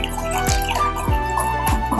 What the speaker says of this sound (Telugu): 1 గ్లాస్ వాటర్ వేసేసుకోవాలి.